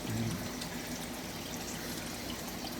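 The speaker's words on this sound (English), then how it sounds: "We just put a little bit of water in our bucket," Water pours steadily into a container with a continuous, even splashing rush that holds a constant level throughout.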